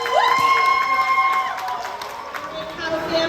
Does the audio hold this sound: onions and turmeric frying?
no